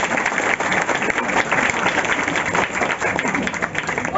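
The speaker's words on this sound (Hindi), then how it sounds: "एक जोरदार ताली।" Loud, sustained clapping from an audience at a prize ceremony for students selected for the Bihar Police, a steady crowd of hands throughout without a break.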